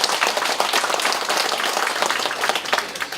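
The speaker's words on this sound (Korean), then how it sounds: "이 예산 많이 통과시켜 달라고 우리 의원님들께 박수 한번 크게 보내주시죠" Audience applause for city council members fills a Korean city policy-sharing meeting in Jeomdong-myeon: dense, steady clapping from a crowd, loud and continuous throughout, with no talk over it.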